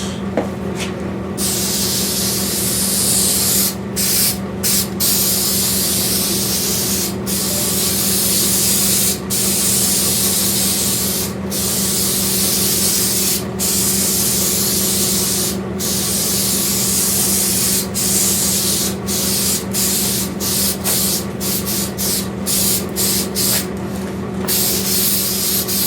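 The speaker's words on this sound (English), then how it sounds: "now I'll go back and spray this" Spray adhesive hisses loudly and continuously onto the roof liner of a 1978 Nova being upholstered, broken only by brief pauses from trigger releases, close to the microphone with no talking.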